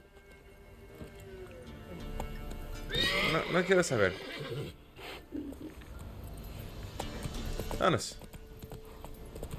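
A horse in The Witcher 3: Wild Hunt whinnies loudly and snorts, with steady clip-clop hoofbeats underneath as it is ridden, while someone talks briefly over the game sounds.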